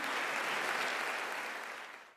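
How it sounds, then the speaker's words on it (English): An audience applauds steadily with dense, even clapping that holds for about two seconds and then fades away, with no voices over it. "And yes, you should applaud that."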